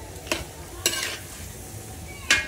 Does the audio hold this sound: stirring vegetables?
yes